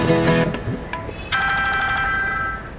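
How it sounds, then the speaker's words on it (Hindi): A telephone rings in a home setting with a bright, tonal electronic ring that sounds close and clear. A short ring at the start is followed by a longer sustained ring, and no one speaks over it. "ये तो विक्की साहब का फोन है।"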